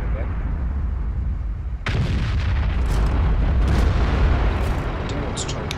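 Tank cannon fire in World of Tanks, with Waffenträger E100s among the tanks, heard as a sudden loud boom followed by a long rumbling roar and crackling, with a player's voice alongside.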